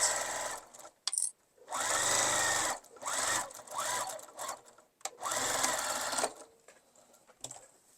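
A sewing machine stitches the seam of an easy tote bag, handles tucked inside, running in several close bursts of steady whirring separated by short pauses.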